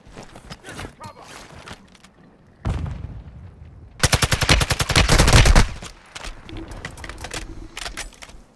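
Rapid gunfire in a Call of Duty match, with scattered shots early and a loud, dense burst of automatic fire in the middle, then lighter shooting and game sounds.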